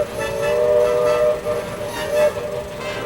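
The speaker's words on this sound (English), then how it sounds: "the shrill tweet-tweet sounds that the locomotive's whistles made" A narrow-gauge steam locomotive's shrill whistle sounds in two sustained blasts over a rumbling, noisy background, fairly loud and alone without talk.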